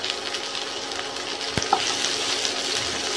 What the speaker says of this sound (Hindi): मैंने यहाँ पे 2 मध्यम आकार का मीडियम आकार का प्याज लिया है, इसे बारीक बारीक काट लिया है। इसे हमें हल्का सा फ्राई करना है।